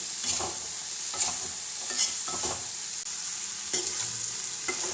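Onions and spices for a mango curry fry on low heat, a soft steady sizzle broken by rhythmic scraping strokes of a spoon stirring the pan, close up with no talk.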